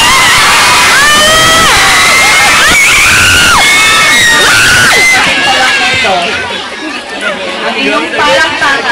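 A pageant crowd cheers and shouts loudly with screams and a high-pitched voice rising over it, then the roar thins into scattered murmuring and distant calls toward the end.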